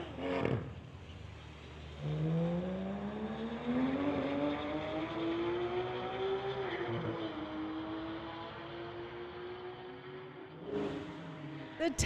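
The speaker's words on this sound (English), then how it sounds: "We've got a Tesla on the spectator side and a Porsche on the pit side." A Tesla and a Porsche launching side by side down a drag strip, a distant roar rising through the run with a rising engine tone over crowd ambience, fading after about ten seconds.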